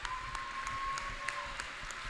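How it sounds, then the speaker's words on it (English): Audience at a robotics competition opening ceremony claps in a steady, moderately loud patter, with a faint tone running through the hall. "give yourself a round of applause"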